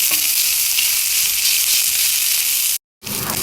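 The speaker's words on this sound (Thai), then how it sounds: "ใส่น้ำมันนิดหน่อยค่ะ เครื่องที่เราตามไว้ ใส่ไปเลยค่ะ ผัดไปอ่อนๆพอหอมนะคะ" Pounded Thai herb paste sizzles steadily in a little hot oil as it is stir-fried, a loud, continuous crackling hiss with a brief cut near the end before the frying resumes.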